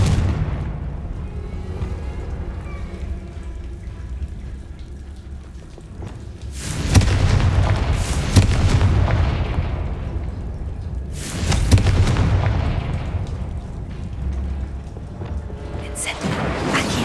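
Booming Confringo spell explosions in Hogwarts Legacy, played on PS5, two heavy blasts with rumbling tails rising out of quieter game ambience, followed by a further hit near the end.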